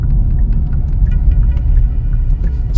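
A 2024 Kia EV6 Wind electric car driving quietly, heard as a steady low road rumble and hum from inside the cabin with faint scattered ticks, no voices.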